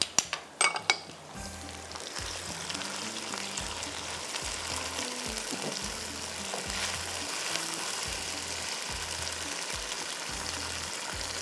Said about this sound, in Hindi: ये टोमेटो को बारीक बिल्कुल चॉप किया हुआ ये मैं इसमें डाल देती हूँ